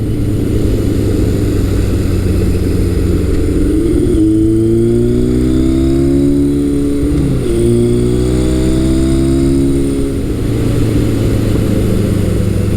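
Steady, loud engine drone of a 1978 Kawasaki KZ1000 motorcycle on a test ride, the pitch rising and falling as it pulls cleanly through the gears, close up with wind noise throughout.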